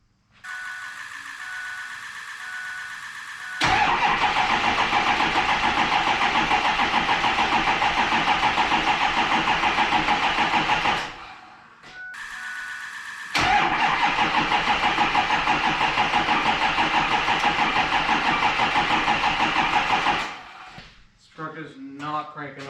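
An abandoned Ford F-350 truck under rebuild cranks over on its first start attempt: two long, loud stretches of steady starter churning, each about seven seconds, separated by a short pause, without the engine catching.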